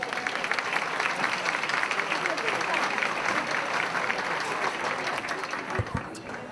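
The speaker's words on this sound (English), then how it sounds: "Please join me in a round of applause as we welcome our city manager," A large audience at a State of the City event breaks into continuous applause for the city manager, thick and steady before tapering slightly at the end.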